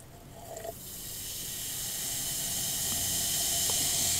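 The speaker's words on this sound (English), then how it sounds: "It's sizzling." Pre-workout powder poured into a vodka soda made with coconut water fizzes with a steady, close hiss that grows gradually louder and fuller over several seconds, with no talking.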